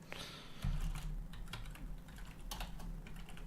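Fingers tap on a computer keyboard in quick, irregular bursts of clicks, close and fairly quiet, with one heavier thump partway through.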